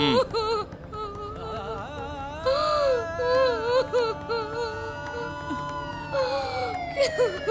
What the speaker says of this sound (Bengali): অ্যাম্বুলেন্স আসছে।